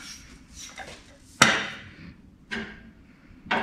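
A ratchet handle is worked around on bolts while banolero suspension components are being taken apart, giving three sharp metallic clicks spaced about a second apart over low workshop rumble.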